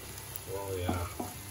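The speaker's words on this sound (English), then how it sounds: "We'll let it simmer in this." Prawns simmer in a chilli garlic gravy with a steady, close sizzling hiss and a few soft bubbling pops over one short moment.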